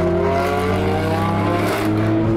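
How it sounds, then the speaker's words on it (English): A loud BMW in Miami accelerates past, its engine roaring with rising revs across the whole clip, close and steady with no talking over it. "There goes the BMW."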